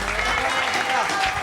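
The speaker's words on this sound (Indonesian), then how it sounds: "Tepuk tangannya dulu para penonton" Audience applause at an Islamic competition final, a short burst of dense clapping from the crowd under a continuous wash of noise.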